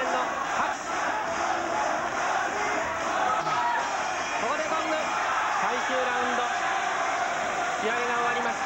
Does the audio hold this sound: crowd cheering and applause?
yes